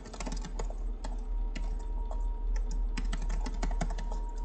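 Fast typing on a computer keyboard, dense rapid key clicks in a steady uneven patter, close up and continuous over a low background hum.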